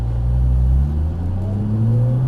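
A Nissan GT-R accelerates onto a race track, its engine a loud, close, low rumble with rising tonal whine as revs climb, no voices over it.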